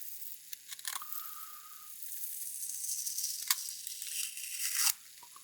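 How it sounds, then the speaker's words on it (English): Nikon F60 (N60) film camera motor winding and loading film, a soft whirring buzz that rises and shifts in pitch for several seconds, with small clicks and a sharp stop near the end, close and quiet. "It loads the film just fine."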